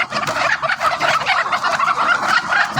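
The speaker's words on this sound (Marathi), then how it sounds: "बघू शकता भरपूर अशा कोंबड्या अंड्यावरती आल्या" Laying hens on a poultry farm raise a dense, continuous clamor of clucking and squawking, a busy flock close by with no break.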